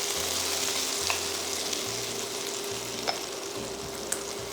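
Spaghetti stir-frying in a pan with light soy sauce and oyster sauce, a steady close sizzle broken by a few sharp clicks of a utensil tossing the noodles, with no talk.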